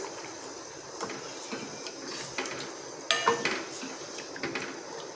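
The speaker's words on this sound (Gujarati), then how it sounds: "મિક્સ કરીને હલાવી લઈશું" A spoon stirring coriander-cumin powder and sambar masala in a pot for South Indian sambar, with repeated metallic scrapes and clinks against the pot over a light cooking hiss, with one louder knock midway and no speech.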